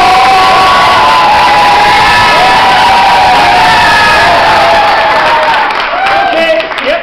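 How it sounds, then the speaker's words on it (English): A crowd at an anniversary debate of an Irish young farmers' club claps, whoops and cheers loudly and steadily to vote down a motion, a dense, continuous roar of applause and shouting that eases slightly near the end. "If you think it should be defeated, clap now."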